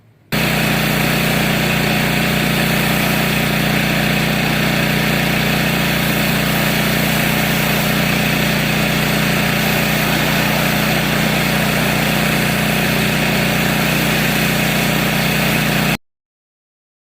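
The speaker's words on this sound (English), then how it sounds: "I'm gonna hose this down" A pressure washer hoses down a 2016 Volkswagen GTI, making a loud, steady motor whine and spray hiss close by that runs without a break and then cuts off sharply.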